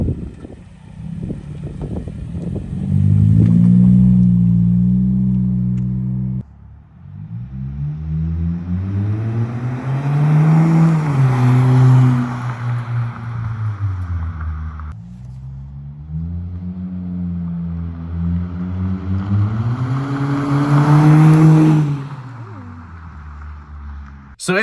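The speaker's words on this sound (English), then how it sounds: "So if you heard, the exhaust is quite a bit louder" A 2023 Hyundai Elantra with a louder aftermarket exhaust revving up and settling in repeated pulls, a deep droning tone rising and falling close by, with some talk mixed in.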